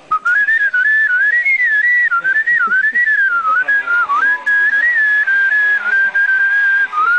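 A person whistles a wavering, continuous melody up close, the tune rising and dipping in a steady stream with only brief breaths between notes.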